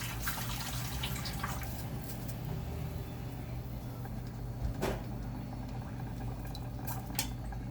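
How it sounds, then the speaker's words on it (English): A bowl of water being poured into a cooking pot while making mango BBQ chicken, heard as a steady close splashing and filling with occasional drips and clinks. "I'm gonna add 1 bowl of water."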